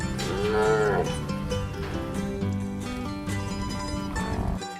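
A Cracker Cattle bull and other cattle moo loudly and close at hand, with long, drawn-out bellows that overlap against background music.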